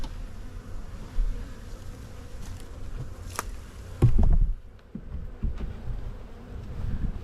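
Honey bees buzz around a backyard beehive during an inspection, a steady insect drone with wind and handling thumps, a louder rumble near the middle, no talking.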